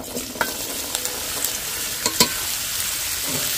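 Chopped beetroot, carrot and peas hiss and crackle in white oil in a pan, a steady close sizzle punctuated by a few sharp scrapes and knocks of stirring.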